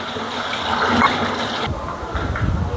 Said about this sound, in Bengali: দিয়ে দেবো জলের পানি